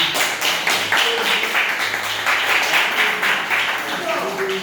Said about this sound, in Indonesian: Aplaus dulu semuanya